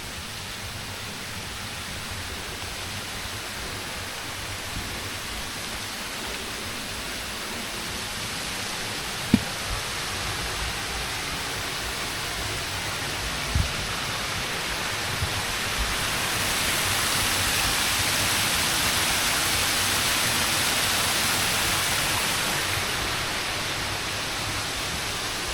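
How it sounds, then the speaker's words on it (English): Cascada del Zurreon, a waterfall, gives off a steady broadband rush of falling water that stays constant and fairly near. The rushing swells slightly louder partway through, with a couple of faint clicks and no voices. "Here's the waterfall."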